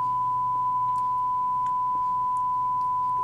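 A steady, unbroken sine test tone from a hearing frequency test holds clear and constant for the whole stretch, with a low hum and a few faint ticks beneath it.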